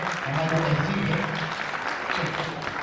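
Audience applause at a Urdu poetry recitation (marsiya) gathering, steady clapping throughout, with a voice and some low tonal sound running underneath.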